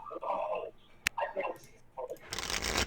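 Playing cards being shuffled close by during a card game tournament match, with a quick riffle burst at the end and a sharp click earlier, while people talk over it.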